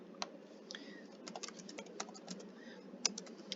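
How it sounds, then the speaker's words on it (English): Quick, irregular key clicks on a computer keyboard, close and fairly quiet, with small pauses between bursts of typing. "I'm going to type here example 2."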